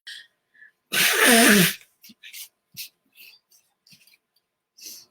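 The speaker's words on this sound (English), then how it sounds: "Hold on, I have to blow my nose." A single loud, forceful nose blow lasting under a second, close to the microphone, followed by quiet sniffs, rustles and small handling noises.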